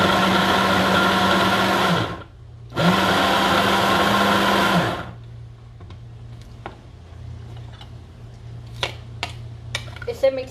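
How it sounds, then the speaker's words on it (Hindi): A food processor whirs loudly as it blends salsa ingredients, running in two steady bursts with a short pause between them, then stopping. Afterward come quieter kitchen clatters and clicks, with a person talking softly in the background. "I'm going to blend it in the food processor."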